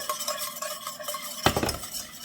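Egg yolks and a little water whisked by hand for béarnaise sauce, a soft steady scraping of the whisk against the bowl with a sharper clatter burst midway, quiet and close, no talking.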